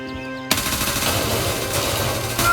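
Machine gun fire in the video game Gray Zone Warfare, a sudden loud burst of rapid close shots that starts after a brief quiet moment and continues steadily, with a fresh burst near the end.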